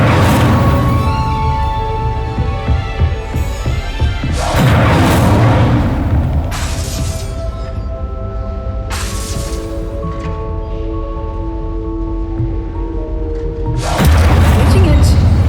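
Incendio fire spell cast in Hogwarts Legacy: several loud whooshing fire blasts, each a burst that rings on briefly, spaced a few seconds apart, with voices in between.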